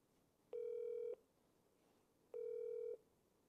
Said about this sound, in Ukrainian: зараз будемо телефонувати до моєї клієнтки